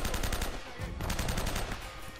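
Rapid bursts of automatic rifle fire from the video game Uncharted, an M4 or M16 style rifle, loud and continuous with short pauses, no voices.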